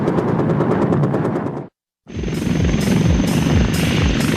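A twin-engine Tiger military attack helicopter roars loudly and steadily, cuts out for a moment, then returns with a strong rhythmic thump of rotor blades.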